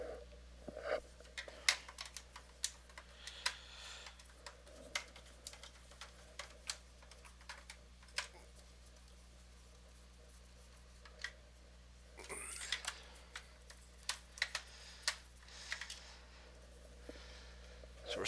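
Small sharp clicks and ticks from a screwdriver working Phillips head screws out of a Nintendo 64 console, quiet and scattered in irregular bursts over a low steady hum.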